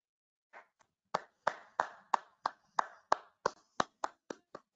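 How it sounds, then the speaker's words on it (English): Hand claps, about fourteen sharp isolated strikes in a steady rhythm, close and clear over near silence, from a participant in an online Toastmasters webinar. "Virtual claps."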